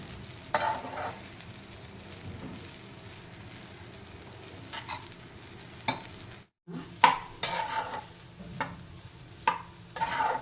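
Cooked rice being stir-fried in a pan for egg fried rice, with quiet frying under intermittent scrapes and knocks of a spatula, some of them sharp.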